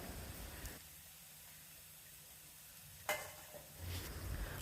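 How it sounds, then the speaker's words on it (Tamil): Cauliflower tipped into an onion masala frying in a pan and stirred, giving a soft, steady sizzle with a brief clatter of stirring partway through, close and quiet, with no talking. "காலிஃப்ளவரை தண்ணியிலிருந்து அரிச்சு எடுத்துட்டு சேர்க்கணும்."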